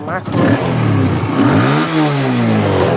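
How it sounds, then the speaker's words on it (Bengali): A TVS Apache RTR motorcycle with about 9,800 km on it idles loud and close, then its engine revs up and falls back in a smooth rising and falling whine. "এরপর আমাদের ইঞ্জিন সাউন্ড, এই যে দেখেন একদম"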